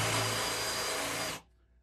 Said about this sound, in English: I put a step bit in, and now I'm going to large it out so it'll accept a 3/8 inch lag